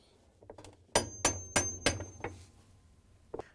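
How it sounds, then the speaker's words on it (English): A hammer strikes a wrench five times in steady succession to tap down the hub nut on a GE washer tub bearing, producing close, ringing metallic blows. "we can take the wrench and a hammer and tap it down"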